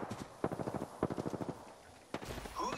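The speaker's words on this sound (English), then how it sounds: "The enemies are shooting at me." Enemy gunfire in Apex Legends rattles in rapid automatic bursts, a fast string of close, sharp shots followed by a brief pause and another crack, with some game effects at the end.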